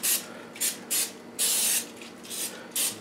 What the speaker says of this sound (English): I'm just using the cooking spray